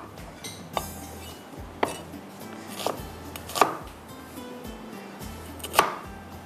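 Knife chopping onion and bell pepper on a cutting board, a handful of distinct sharp chops spaced about a second apart, close and clear with light kitchen clatter between strokes.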